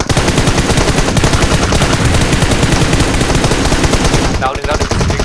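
Sustained automatic gunfire rattles loud and close in the battle royale video game PUBG Mobile, a continuous rapid stream of shots that thins out slightly near the end.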